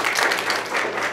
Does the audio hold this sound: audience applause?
yes